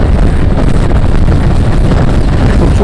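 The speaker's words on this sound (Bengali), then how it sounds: "প্রচুর বাতাস।" Strong, steady wind roar buffeting the microphone while riding pillion on a motorbike through Dhaka traffic, loud and continuous, with no voices heard.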